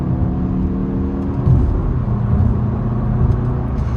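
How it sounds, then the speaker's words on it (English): A 2022 Mazda 3 Turbo Premium Plus sedan accelerates onto a highway from inside the cabin, its engine a steady low rumble with a brief swell mid-way, alone with no talk. "No problem accelerating onto a highway."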